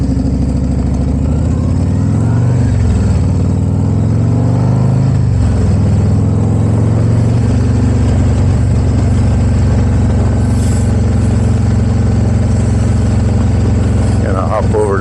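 Motorcycle ride heard from on the bike, a loud continuous engine drone with pitch shifts as the rider accelerates and eases off, mixed with steady wind rush.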